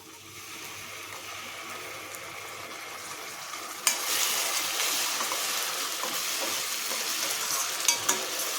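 Ground masala paste of ginger and spices fries steadily in hot oil for an eggplant curry, a continuous close sizzle that flares up louder partway through, with occasional clinks of stirring.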